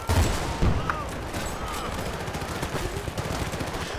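Gunfire in Battlefield Bad Company 2, bursts of rapid shots and heavier booms near the start, then sustained crackling fire and battle noise continuing at a steady level.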